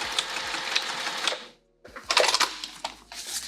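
A sewing machine stitches a bag, running in rapid mechanical bursts that stop briefly for a pause, then start again for back stitching, close and moderately loud.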